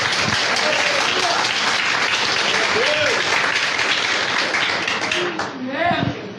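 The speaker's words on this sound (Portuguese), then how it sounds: "Pode aplaudir, é digno" A church congregation applauding during a sermon, a full, steady roll of clapping that thins toward the end as a voice begins to come through.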